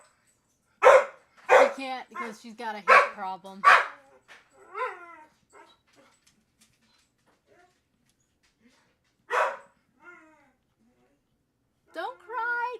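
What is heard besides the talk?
small dog barking and whimpering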